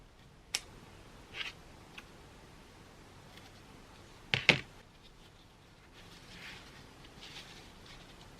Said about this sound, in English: from here we are going to make a cut which is going till the edge